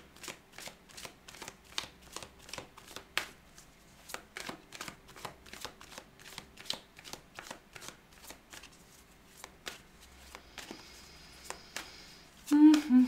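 Tarot cards being shuffled for a weekly reading, a long run of crisp, rapid riffling flicks in a steady rhythm, close and fairly quiet, with a brief soft voice near the end.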